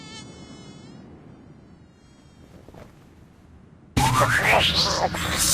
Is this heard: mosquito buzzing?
yes